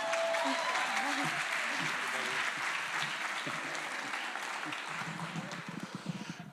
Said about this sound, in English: he also deserves the best rousing, thunderous round of applause